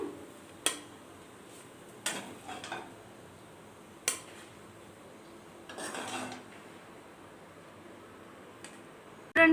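Tomato rice being scooped out onto a plate: sparse clinks and scrapes of a spoon against a pot and dish, with a few separate light taps spread across a quiet kitchen.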